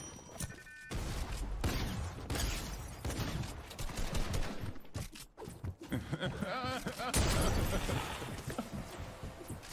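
Video game gunfire crackles in bursts and rapid volleys throughout, mixed with a dense game soundscape of impacts and building noise while a player talks over it.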